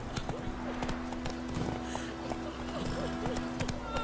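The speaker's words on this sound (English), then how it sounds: "Whoa there, Roach." Hoofbeats of a horse galloping in The Witcher 3 game, steady clip-clop across the whole stretch under a sustained low drone, with brief voice sounds mixed in.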